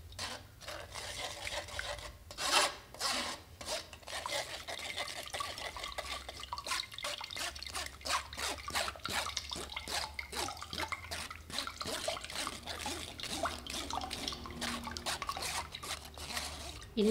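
Water drips and trickles from stirred, strained rice and kencur pulp while it is mixed, giving a continuous wet rubbing and splashing texture with small drops, close and fairly quiet throughout.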